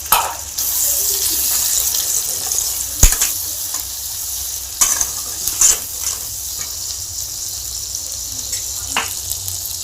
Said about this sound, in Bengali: এটা দিয়ে আমি জল দেবো।